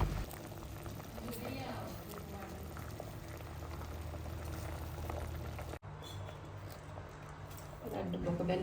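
Chana dal simmers in coconut milk in a home kitchen, a steady bubbling boil that runs the whole time with a brief clatter partway through.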